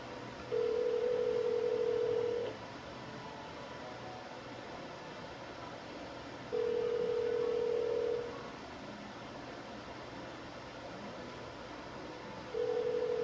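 A telephone call tone sounds three times over an Alexa phone call, each steady beep lasting about two seconds with long gaps between, under a constant hiss.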